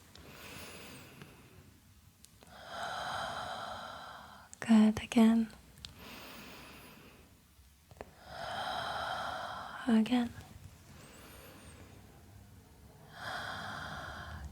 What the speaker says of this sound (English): Nice deep breaths in.